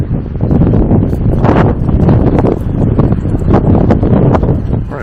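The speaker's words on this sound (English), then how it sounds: "Got a desert wind blowing." A strong desert wind in Tombstone, Arizona buffets the microphone in loud, gusting rumbles that surge and ease without a break, with no voices heard.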